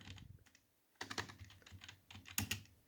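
Typing on a computer keyboard, uneven bursts of close, soft key clicks with short pauses between them.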